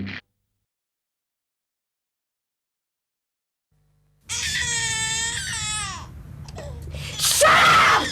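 A person in a public information film screams and wails loudly and shrilly after several seconds of near silence, and the anguished cries continue to the end.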